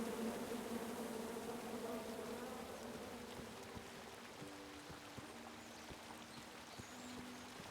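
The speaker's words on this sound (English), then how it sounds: "Come at me, bees!" Buzzing bees from the King's Quest video game, a steady low hum running throughout alongside a watery, trickling background ambience, with no talk.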